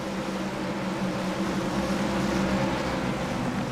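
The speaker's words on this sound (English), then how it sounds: "the roar of those engines" NASCAR Next-Gen Cup cars roar in iRacing, a steady, dense engine drone that holds at an even loudness throughout with no voices.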